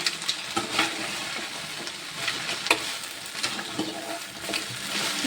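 Cabbage kebab mixture stirred in a frying pan, with a steady oily sizzle and soft scraping strokes of a spoon recurring every second or so, close and moderately loud, no talking.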